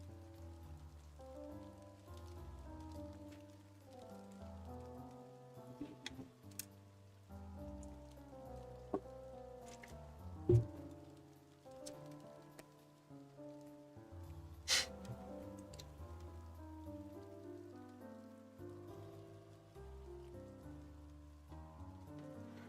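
Steady rain patters on a surface throughout, with scattered sharper drops and taps, under a low continuous background of music or game audio.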